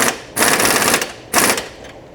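Impact wrench tightening the lower bolt on a Chevrolet Colorado or GMC Canyon truck suspension during an install: two loud, rattling bursts of about a second each, close up, with a short quiet gap between them.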